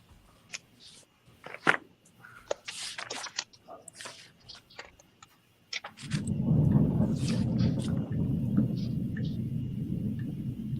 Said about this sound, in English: It's just thundering.